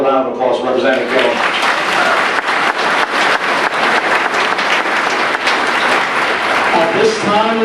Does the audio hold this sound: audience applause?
yes